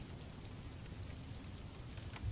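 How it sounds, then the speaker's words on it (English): Steady rain falls continuously, an even close wash of patter with no break, no thunder and no voices. "The rain continued its steady rhythm"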